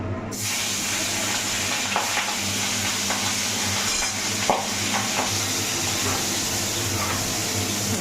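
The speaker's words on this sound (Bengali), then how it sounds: "সেই বিশাল বড় বড় মাছটা একটু হালকা করে ভেজে নিব" Large pabda fish pieces frying lightly in hot oil in a kadai, a loud steady sizzle and hiss running the whole time with a few soft clinks and stirring bumps, no talk.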